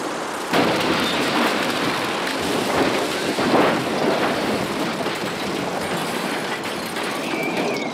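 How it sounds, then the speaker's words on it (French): Heavy rain in a film scene, a dense steady downpour that starts abruptly after a brief quiet moment and then roars on without pause, loud and close, with no talking over it. "maintenant il pleut"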